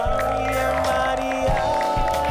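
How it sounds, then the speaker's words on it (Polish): A studio crowd on a Polish entertainment show cheers and claps in a steady, full wash of noise over sustained music, loud and unbroken throughout. "Wielkie brawa!"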